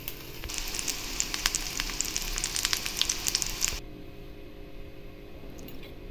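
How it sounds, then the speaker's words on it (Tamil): Ingredients for an eggplant thokku frying in hot oil in a pan crackle and spit densely for about four seconds, then cut to near silence. "ஃப்ரை பண்ணி எடுத்து வச்சுட்டு மீதி இருக்கிற எல்லாத்தையும் இந்த எண்ணெயிலேயே ஃப்ரை பண்ணிடலாம்."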